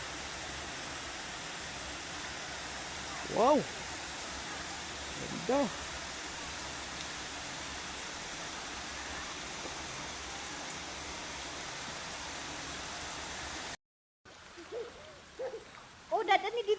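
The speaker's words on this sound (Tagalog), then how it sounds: "dito sa kaliwa, bandang kaliwa ay ilog" A river at the Cresanta Teresa spring resort in Casanding, Paranas, Samar rushes in a steady, even wash, with a few brief voices on top and a short break near the end.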